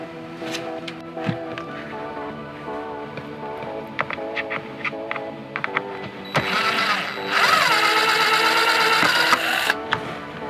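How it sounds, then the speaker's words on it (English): A power drill whirs as screws come out during an RV renovation. Steady mechanical humming and clicking grows into a loud, continuous whine near the end, close by with no speech. "I'm gonna take these screws out, and this should come right down."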